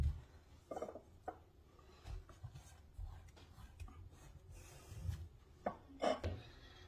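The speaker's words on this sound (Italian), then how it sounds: "mi vado a spalmare per bene l'aglio sulle melanzane, facendolo entrare anche nelle spaccature" Garlic rubbed onto split eggplant, heard as a few soft, irregular scraping and rubbing strokes with occasional light knocks, close and fairly quiet.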